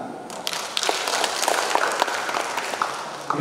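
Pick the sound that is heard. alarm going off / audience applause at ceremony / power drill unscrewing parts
audience applause at ceremony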